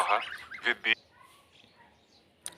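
A few honks from geese close by, in quick bursts, followed by quieter background sound and a short final call.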